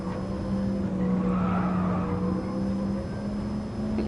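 A car in the GT Sport racing game holds a steady engine drone under a broad skidding tire hiss that swells in the middle, loud and continuous for a few seconds.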